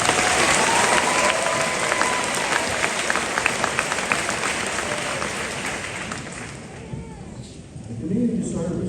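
An audience at a graduation ceremony gives graduating students a long round of applause, dense clapping that gradually thins and fades toward the end, with a voice speaking near the close.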